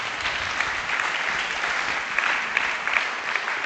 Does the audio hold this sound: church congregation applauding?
yes